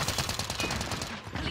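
Gunfire from the video game Call of Duty: Modern Warfare comes as a quick, loud burst of rapid, rhythmic shots packed into a second or so.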